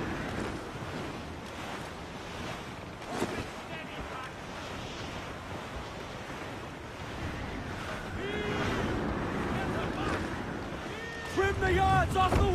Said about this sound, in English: The wind is picking up nasty!